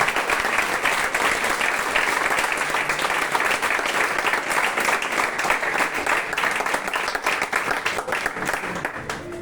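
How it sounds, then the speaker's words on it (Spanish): A church congregation claps loudly for the Lord, a dense, continuous wall of applause from a large crowd with a faint murmur of voices beneath. "Brinde un fuerte aplauso al Señor."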